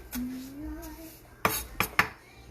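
Three sharp knife strokes against a cutting board while vegetables are chopped and halved for an Asian-inspired pork and cauliflower rice dish, sounding close and distinct after a short quiet stretch with a faint whistle-like tone.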